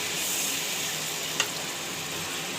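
Chili powder and turmeric powder frying in hot oil for a Bengali kochur loti (taro stolon) curry, giving a steady, even sizzle throughout with one brief stir or tap near the middle.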